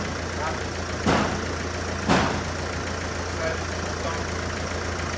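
A Mercedes Vito diesel engine with leaking injector seals runs at a steady idle, a constant low rumble broken by two sharp louder bursts early on, with faint background noise throughout.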